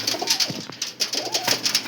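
A red-headed, white-eyed pigeon coos close by in repeated soft, throaty phrases, rising and falling in a steady rhythm.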